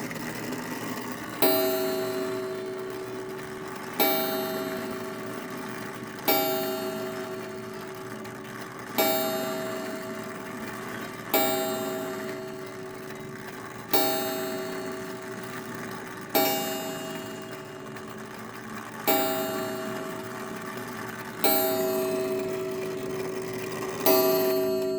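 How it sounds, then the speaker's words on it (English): A circa 1907 New Haven kitchen gingerbread clock strikes about ten evenly spaced bell chimes, each ringing out and fading before the next, loud and close, with a steady tick underneath and no voices. "So if we lift up this lever, okay, that's once, that's the half-hour chime."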